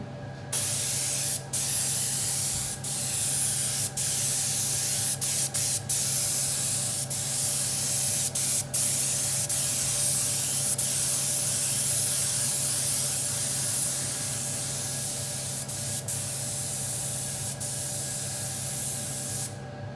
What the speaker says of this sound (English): Keep a nice even wet coating as you're going with the spraying.